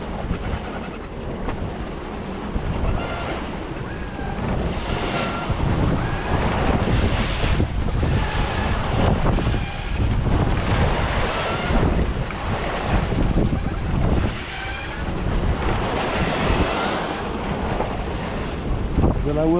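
Wind roars across the microphone aboard a boat at sea, with heavy waves and rushing water beneath, a loud, continuous, churning wash that never lets up.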